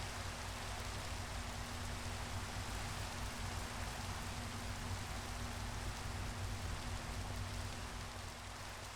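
Steady rain falling in the video game Minecraft, a constant even hiss of drops running unbroken and fairly quiet throughout with no other sounds.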